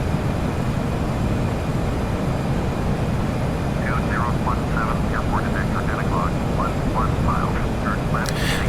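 Embraer E-195 jet engines in the Prepar3D flight simulator drone steadily throughout as a loud, even roar, with faint chirping sounds partway through.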